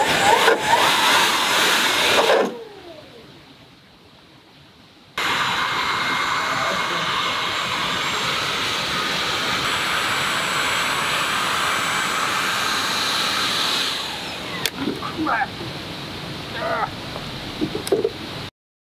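A 7000W electric motor running on a 12S battery gives a loud, steady high-pitched whine for about nine seconds after a short burst and pause, then winds down into scattered clicks.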